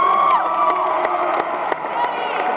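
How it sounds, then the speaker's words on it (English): A high school student body activities assembly in 1996 breaks into cheering and shouting for the annual staff, a loud crowd of young voices whooping continuously, with sharp claps and yells scattered throughout. "let's give a big round of applause to the annual staff"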